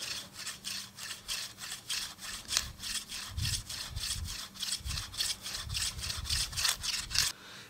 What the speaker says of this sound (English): So I just start right in the middle and I drill down.